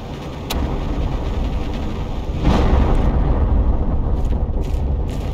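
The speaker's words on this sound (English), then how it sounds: "I can hear explosions, but I don't see them." Deep rumbling booms of explosions roll in the distance in the video game Planet Crafter, a low continuous roar that swells after a sharp onset, with no voices.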